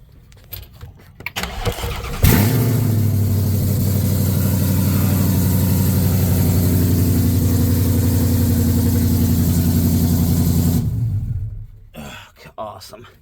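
A Ford Mustang engine cranks and catches, then settles into a steady, loud, deep idle for about eight seconds before being shut off, with faint background noise around it.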